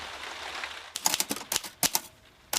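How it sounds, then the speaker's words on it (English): Typewriter keys striking in short irregular bursts after a quiet start, sharp close clacks in small clusters while a novel is being typed out in bed. "I am just on the grisly job of typing out my novel."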